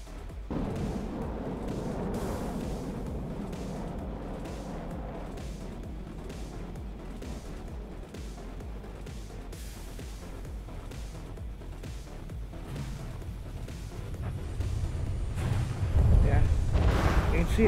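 Missile explosions in a video game boss battle, the robot Gothic Downfall against Nightmare, come as a dense rumbling barrage of booms and blasts that swells louder near the end, with a voice talking over it.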